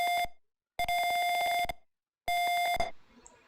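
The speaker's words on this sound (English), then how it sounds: "we can see burglar alarm becomes active at a certain point of time" Piezo buzzer on a DIY house-protection burglar alarm sounds loud, steady electronic beeps in three bursts separated by short silences, the last cut off into faint background noise.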